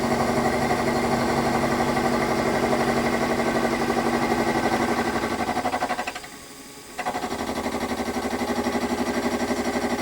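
A cutter machining metal for bespoke hinges, lubricated with WD-40, grinds with a steady, rapidly pulsing mechanical chatter and motor hum, close and continuous, briefly dropping quieter for about a second before resuming, with no talk.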